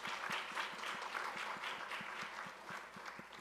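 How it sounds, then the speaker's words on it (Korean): A church congregation claps in blessing during a Sunday service, a faint, steady patter of many hands with a soft rhythmic beat running through it. "우리 다시 한번 박수로 축복해 주시기 바랍니다"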